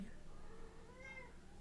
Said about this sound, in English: They can see who's meowing.